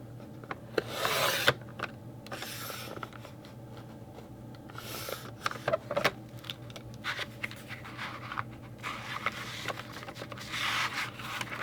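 Hand cutting of paper pieces for a card-making craft, quiet intermittent scraping and rasping strokes with small snips and rustles, close by and irregular.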